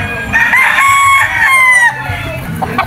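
A Secret White gamefowl rooster crows loudly and close by at a farm, one long drawn-out call with a rising and falling tone, followed by softer clucking.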